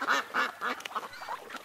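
A voice imitating a duck, giving a run of rhythmic nasal quacks, close and fairly clear, about five or six calls in quick succession.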